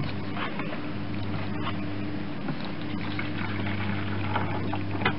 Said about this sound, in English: I'll fill it up with water